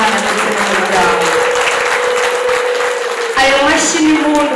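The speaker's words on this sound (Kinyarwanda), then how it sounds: "Ayo mashyi n'impundu byongere byiyongere" A crowd at a Rwandan wedding celebration claps loudly and continuously, while high, wavering ululation cries rise above the applause, especially near the end.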